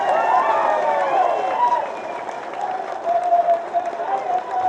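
A crowd at a BRS leaders' political meeting in Kodangal breaks into loud, sustained applause and cheering that swells and dips over a few seconds, with voices mixed into the din.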